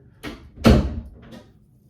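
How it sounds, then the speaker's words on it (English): A house door is pushed shut with a soft thud followed by a heavier closing bump, close by and fading quickly into quiet. "close the door for me, bud"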